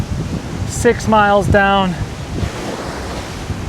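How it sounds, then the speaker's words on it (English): Strong wind buffets the microphone with a loud, steady roar during a lakeside hike around Lake Geneva, Wisconsin, while a person speaks briefly over it. "I don't know how windy this is with my mic, but it's really windy out here."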